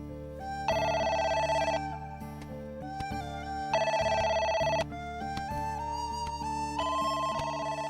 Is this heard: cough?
no